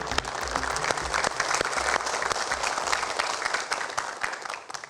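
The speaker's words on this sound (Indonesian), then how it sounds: "boleh berikan tepuk tangan" A studio audience at a Ramadan pre-dawn sahur show gives a lively, close round of applause, thick and uneven clapping with sharp individual claps, sustained for about five seconds without speech.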